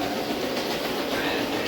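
Model train called the Terrier running and coming to a stop at a layout station, with a steady close rumble and faint rail clatter throughout.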